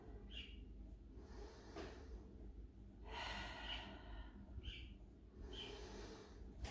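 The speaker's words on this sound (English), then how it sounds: "And take a nice deep breath here." Soft, quiet breathing during a yoga child's pose, with a few gentle inhales and exhales rising and falling against a low background hush.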